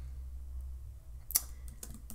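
A handful of sharp keystrokes on a computer keyboard while typing Swift test code, sparse and close, following a quiet stretch with low background hum.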